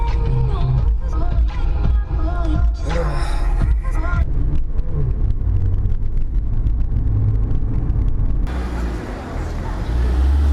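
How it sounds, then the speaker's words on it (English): Montreal city traffic rumbles past, cars and a heavier vehicle passing close with a low continuous roar that shifts as vehicles come and go. "Montreal traffic."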